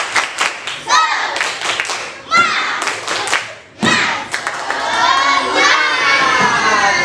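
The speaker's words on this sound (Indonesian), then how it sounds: "Sekali lagi, tepuk semangat." Schoolchildren in an Indonesian classroom repeat the tepuk semangat spirit clap, loud unison shouted chant punctuated by patterned group claps, ending in prolonged excited shouting from the whole class nearby.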